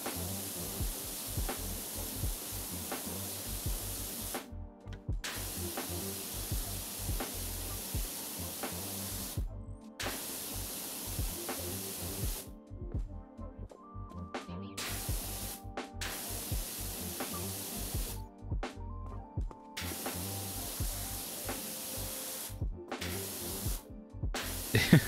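Pressure washer spraying in the video game PowerWash Simulator, a steady hissing jet that repeatedly starts and stops in bursts of a few seconds with short silent gaps between.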